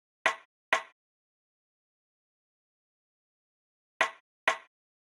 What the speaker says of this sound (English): I then found this kind of rim shot kind of percussion sound that I really like the sound of